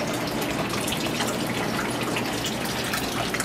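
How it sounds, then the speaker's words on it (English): Water trickles and splashes continuously through a small backyard NFT aquaponics setup, pumped to the top and running down channels before dropping back into its container; a soft, steady close-up babble with no talking. "it pumps up to the top, and the water runs down and around and then drops back in"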